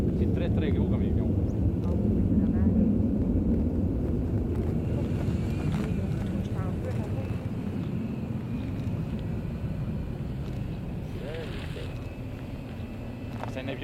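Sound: military transport aircraft landing

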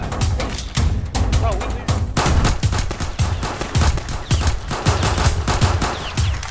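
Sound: gunfire in Roblox hood roleplay video game

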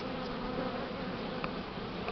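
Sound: swarming honeybees

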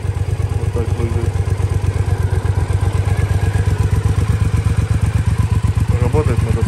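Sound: 2013 Triumph Speedmaster motorcycle engine running

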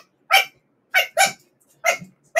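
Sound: person imitating a small dog barking

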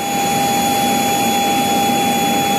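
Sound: airplane engine just after landing at Goma

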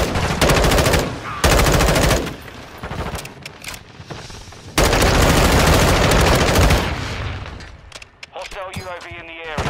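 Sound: M4 gunfire in Modern Warfare 2 video game

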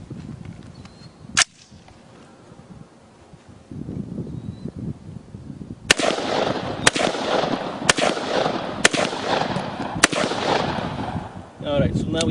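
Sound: fully automatic 1971 gun firing armor-piercing rounds at steel

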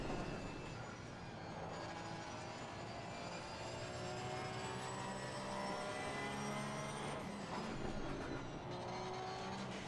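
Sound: Porsche 991ii GT3-R race car engine in video game ACC

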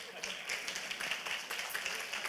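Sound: audience applause

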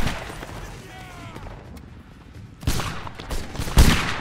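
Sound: musket volley gunfire in a video game

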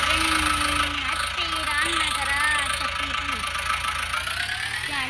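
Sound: tractor engine running

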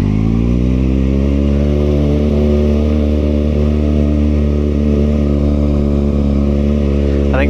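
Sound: small plastic mini electric motorcycle running

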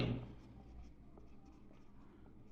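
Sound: writing by hand

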